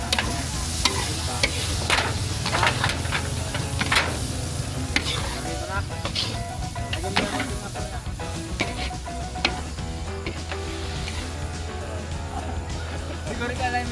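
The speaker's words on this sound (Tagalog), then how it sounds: "Sasabawan na ng pineapple juice." Onion and garlic sauté in margarine in a pan at a village fiesta cookout as pineapple juice goes in, giving a loud, continuous sizzle with sharp spoon scrapes and clinks and a low hum and voices in the background.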